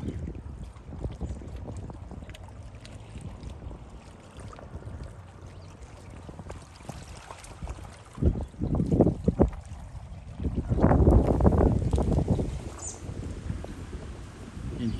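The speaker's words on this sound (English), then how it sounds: "There's a fast boat." A fast motorboat passes on the Detroit River near the Belle Isle bridge, its engine and wash swelling loud in the second half over steady wind and water noise outdoors.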